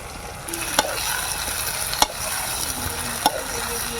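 Brinjal and curry leaves fry in oil for a Dindigul-style oil brinjal kuzhambu, a close, even sizzle broken by three sharp clinks of a spoon stirring against the pan.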